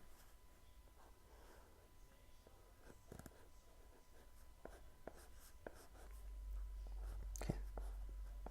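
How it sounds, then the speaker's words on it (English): Pen strokes on paper as a current mirror OTA circuit diagram with PFET inputs is drawn by hand, a run of quiet, close scratches and taps against a faint steady hum. "I'm going to draw that real quick."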